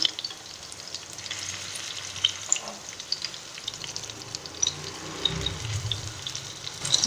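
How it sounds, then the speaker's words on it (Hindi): Seekh kebabs fry in a pan with a steady, close sizzle, with faint crackles and small pops scattered throughout and no voices. "दोबारा से दूसरी साइड पे फ्राई कर लेंगे हम"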